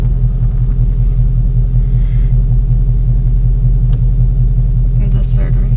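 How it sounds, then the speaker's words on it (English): Manual car engine pulling away in first gear, a steady low rumble that dominates throughout, with brief faint higher noises near the end. "So you're going to put the clutch in, put it in first gear."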